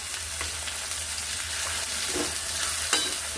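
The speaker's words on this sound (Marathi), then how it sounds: "बघा हा कांदा मी फ्राय करून घेते आता चांगला" Onion fries steadily in a pan, giving a continuous sizzle with scattered soft stirring scrapes and a low hum beneath, and no voices.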